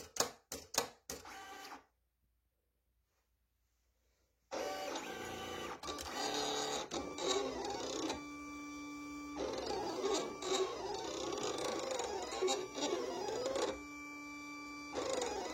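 Silhouette Cameo 4 cutting machine cutting flex vinyl: a few sharp clicks, a short silence, then a continuous whirring motor with rising and falling mechanical sweeps and repeated buzzing strokes of the carriage, close and clear.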